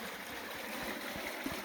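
A river on an Appalachian Trail hike flows with a soft, steady rushing and gentle gurgle, faint and continuous, with no voices over it.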